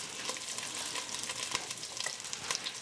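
Green onions and ginger frying in oil in a pot for Thai red curry, a steady bright sizzle with faint crackles, close and moderately quiet, no voices.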